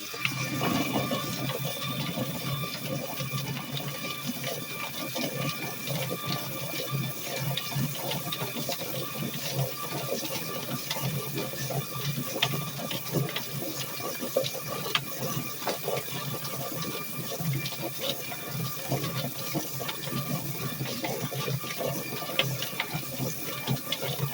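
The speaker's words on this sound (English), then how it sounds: "you turn on your plucker, and then you spray water in there" Continuous rushing spray of water into a running chicken plucker, with a steady mechanical whir underneath, constant and fairly close with no voices.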